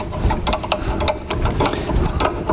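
A 19mm spanner winds a ball joint splitting tool while a new track rod is fitted on a Range Rover P38, giving close, rhythmic ratcheting clicks over a low mechanical rumble.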